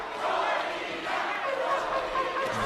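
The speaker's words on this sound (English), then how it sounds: "And chants from the Mexican crowd go up for the home favourite Molina." A Mexican boxing crowd chants for home favourite Carlos Molina during a world title fight against Cornelius Bundrage: a dense, steady roar of many voices filling the arena at a distance, sustained without break.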